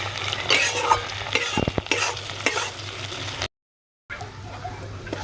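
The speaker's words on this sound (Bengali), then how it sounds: "পেঁয়াজের সাথে মাছটা ভালো করে ভাজা হয়ে গেছে" Dried Bombay duck (lote shutki) fries with onion in a pan, giving a steady close sizzle with repeated scraping stirs, broken by a brief silent gap before the frying resumes.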